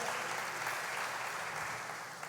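A church congregation applauds in a dense, steady burst of clapping that fills the room evenly and then tapers slightly at the end.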